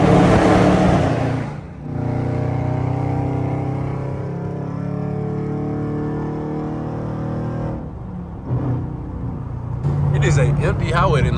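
A loud, catless Dodge Scat Pack V8 holding a steady, rumbling drone while cruising, heard from inside the car, with louder revving swells near the end and someone talking over it.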